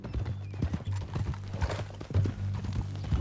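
Horse hooves clip-clop in the video game Red Dead Redemption 2, a steady walking rhythm of close, distinct hoof knocks over light ambient noise with no voices.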